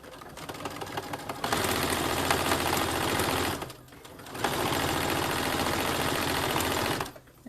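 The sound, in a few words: sewing machine stitching and back stitching a zipper pouch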